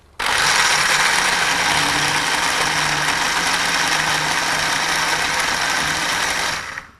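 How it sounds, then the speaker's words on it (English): A blender whirs steadily for about seven seconds as it purées tiger nuts, diced coconut and dates with a little water until smooth, a loud continuous motor roar from start to finish with no talking. "So all we need to do is to blend it till it's very smooth with a little water."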